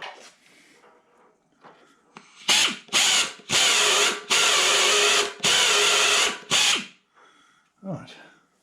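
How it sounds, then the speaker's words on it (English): A 5mm drill bores into a workpiece on a milling machine, giving a run of loud, harsh grinding bursts with short gaps between them, followed by quieter mechanical clicks and handling noise. "Now that drill was slightly undersized, so we'll go in with the 5mm drill now."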